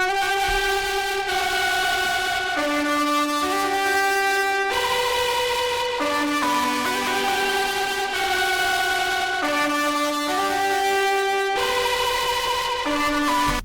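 A dark, buzzy synth lead preset, "Jean Jacket", plays a slow stepping melody of sustained notes, loud and continuous, with nothing else behind it.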